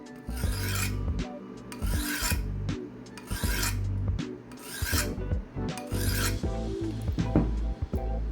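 A kitchen knife is drawn across a simple sharpening stone in about five long, regular rasping strokes from heel to tip, close and steady, with no one talking.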